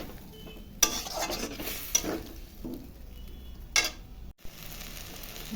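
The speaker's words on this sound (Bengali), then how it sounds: "মশলার সঙ্গে ভালো করে আমি এখন কষাবো।" Spice paste mixed with water is sautéed in a pan: a low sizzle runs beneath several sharp scraping strokes and utensil knocks. No one speaks.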